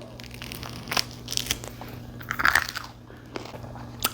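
Several crisp crunching bites into crusty artisan bread, spaced out over a few seconds, close and fairly quiet against a low steady hum.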